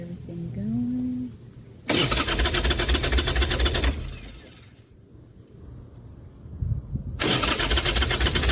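A Harley-Davidson motorcycle engine starts with its choke not pulled out, loud and close. The engine bursts into a rumbling run, fades and nearly dies for a few seconds, then catches again and roars back.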